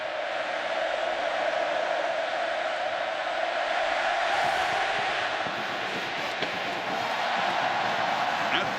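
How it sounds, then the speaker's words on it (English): A large football stadium crowd at a college game roars in a steady, dense wash at kickoff, staying loud and continuous throughout. "the crowd has never been bigger or louder than right now"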